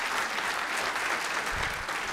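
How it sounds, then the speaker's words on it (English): An audience at a New York congressional debate for District 1 applauds the two candidates with dense, sustained clapping that stays steady and even throughout, heard from a moderate distance. "why don't we give both candidates a big round of applause?"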